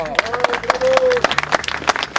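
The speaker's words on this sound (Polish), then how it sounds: "Duże brawa!" An audience at the Szwejk Manoeuvres festival in Przemyśl breaks into scattered clapping, individual claps building into applause while a voice carries on over it.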